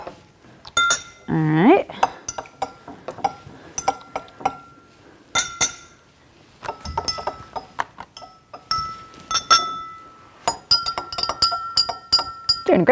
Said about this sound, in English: you can give them a quick stir real quick